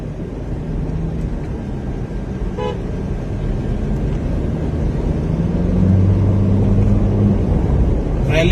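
Car engine accelerating in boost mode, a steady loud drone that builds gradually while a horn-like tone sounds briefly, heard from inside with a rising engine note near the end.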